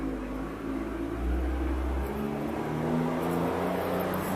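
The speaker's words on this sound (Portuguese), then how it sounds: "Eita, passou um caminhão aqui agora, um barulho horrível deve ter ficado aí para vocês." A truck passes outside, its low engine rumble swelling and then easing as it goes by, with a steady drone continuing throughout and no talking.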